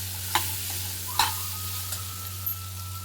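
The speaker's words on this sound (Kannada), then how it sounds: "ಇವಾಗ ದೊಣ್ಣೆ ಮೆಣಸಿನ್ಕಾಯಿ ಹಾಕಿ ಇದನ್ನು ಚೆನ್ನಾಗಿ ಬಾಡಿಸ್ತೀವಿ" Capsicum and mixed vegetables being sautéed in a pan: a steady sizzle runs throughout, with a few sharp clinks and scrapes from the stirring spoon against the pan.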